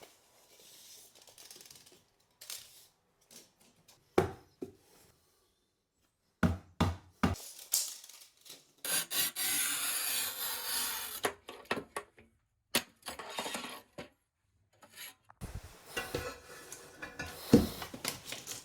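Floor tiles being cut during a bathroom renovation, heard as a series of sharp scraping and snapping strokes in irregular bursts, with a longer sustained grinding cut in the middle, close and fairly loud with no talking.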